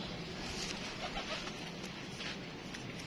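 Pigeons cooing faintly in the background of a quiet outdoor setting, soft low calls repeating a few times over a light hiss.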